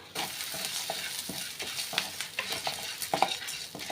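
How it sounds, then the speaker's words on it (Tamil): Dried red chillies fry in a pan of lentil chutney base with a continuous quiet sizzle and repeated scraping stirs at close range. "வத்தலையும் நல்ல கிறிஸ்பியாக வறுத்து எடுத்துக்கலாம்"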